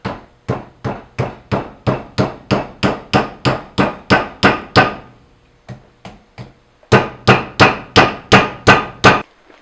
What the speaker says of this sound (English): So now I've driven on the wedge pretty much as far as it'll go with the hammer.